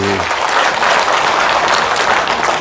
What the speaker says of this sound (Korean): 그럼 박수 한번 쳐야죠.